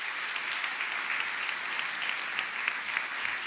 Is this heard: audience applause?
yes